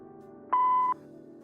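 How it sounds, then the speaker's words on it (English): A single steady voicemail beep from a phone in the Kathy Rain 2 detective game, about half a second long, clear and prominent over a faint background hum. "Please leave a message after the beep."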